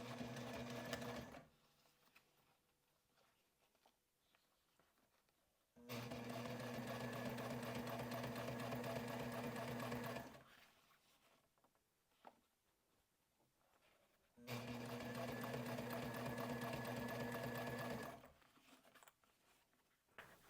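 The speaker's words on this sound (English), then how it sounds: "I'm just going to freehand the binding strip along that edge as we sew." Sewing machine stitching a binding strip along the edge of a fabric sling, three steady whirring runs of about four seconds each with quiet pauses between, close and alone.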